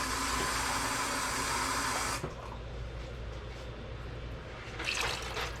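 Water poured from a container into a cooking pot for Louisiana red beans, a steady broadband rush for about two seconds that cuts off, followed by quieter kitchen room noise and a brief splash near the end.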